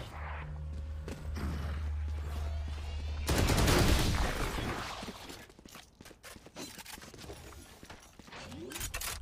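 Bursts of rapid gunfire in a Valorant-style tactical shooter as players fire at a turret, a dense loud fusillade of sharp shots with mechanical clatter, breaking into scattered single shots and rattling bursts, with players talking over it.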